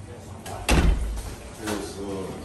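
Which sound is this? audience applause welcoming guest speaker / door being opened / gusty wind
door being opened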